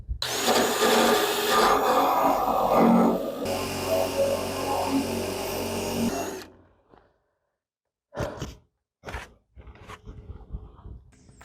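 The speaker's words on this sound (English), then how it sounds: "I'm going to take the wire wheel along this edge and try and get as much out as I can" A wire wheel grinds rust off the fender edge of a 1989 Chevy K1500 4x4 pickup, a loud continuous whirring scrape for about six seconds that winds down, followed by a few separate knocks.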